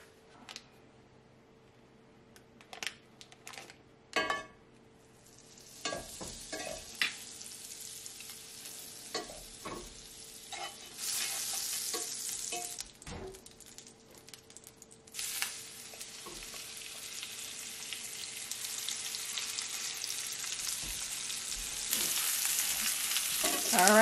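A lamb roast searing in pork fat in a cast iron pan: scattered clunks and taps give way to a rising, steady close sizzle that grows louder toward the end, with no talk.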